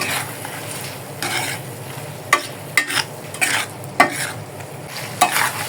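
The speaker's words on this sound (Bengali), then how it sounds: "এবার ভালো করে নেড়ে নেব।" Pasta is stirred in a pan over a soft frying sizzle, with several sharp scrapes and clinks of a utensil against the pan at irregular intervals, close by and without talk.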